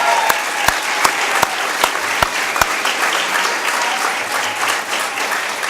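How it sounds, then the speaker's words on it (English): An audience at a school district gathering gives strong, dense applause for a girls cross country team, with a few sharp, loud claps standing out near the start before the clapping settles into a steady wash. "let's give them a big round of applause"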